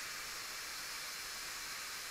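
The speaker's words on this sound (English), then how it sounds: "we can just force the release of the pressure" Steam hisses steadily from a pressure cooker during a forced pressure release while lentil soup cooks, a continuous, even, close-up broadband rush with no pauses and no voices.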